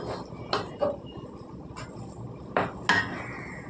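Chicken dum biryani stirred together with kurma in a pot, a metal spoon scraping and knocking against the sides in a few separate clatters, fairly quiet with pauses between.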